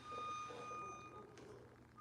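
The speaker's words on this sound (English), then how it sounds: "The loud beeping in the background." Faint, steady electronic beep tones from ceiling construction work carry in the background, fading out after about a second over low room noise.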